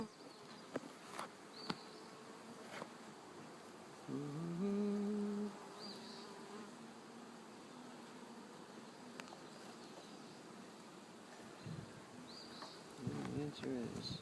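Honeybees buzz around an opened hive, a faint steady insect drone with closer buzzing passes rising now and then, soft handling noises and quiet surroundings.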